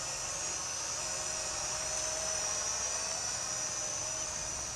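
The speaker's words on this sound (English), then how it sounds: "Let's see how stable this drone is" A Visuo XS809HW quadcopter drone hovers nearby with a steady, high-pitched whine of spinning propellers, constant and unbroken throughout, with no voices.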